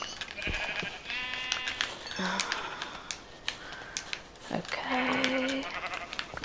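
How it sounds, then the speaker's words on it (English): Several short sheep bleats from Minecraft come in separate bursts over clicky game sounds, and someone says a word partway through. "Oh, here's a sheep."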